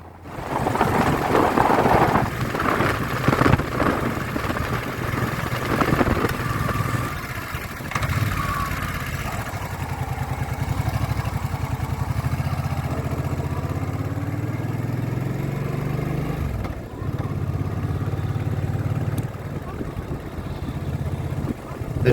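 Motorcycle engine humming up close from a bike-mounted camera, a steady mid-range drone with rising and falling revs and a few brief dips, with wind noise.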